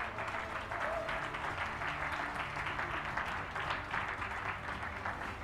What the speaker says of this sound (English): I would like to say a round of applause to you